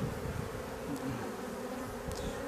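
Honeybees buzz over a newly built hive frame of clean wax, a dense, close, continuous hum with a brief higher whine passing by.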